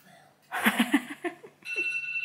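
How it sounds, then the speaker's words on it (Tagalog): An alarm clock rings indoors, its electronic tone starting near the end and holding steady after a burst of giggling and voices. "Uy, nag-alarm na."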